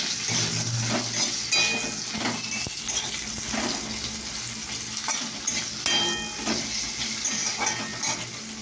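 Bitter gourd frying in a wok for a vegetarian shukto, a steady close sizzle with occasional stirring scrapes and clatters running throughout.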